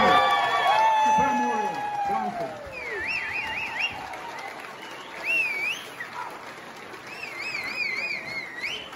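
A concert audience claps steadily for the band in a dense wash of applause, with whistles and voices rising over it at times.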